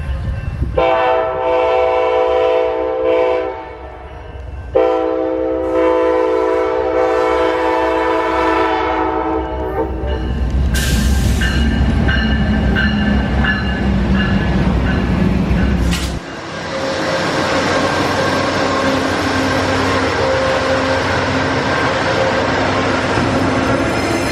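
An Amtrak passenger train passes close by, its horn blaring in loud repeated blasts before the heavy roar and clatter of cars and wheels rolling past continues to the end.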